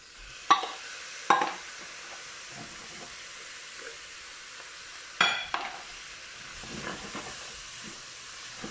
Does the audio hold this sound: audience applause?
no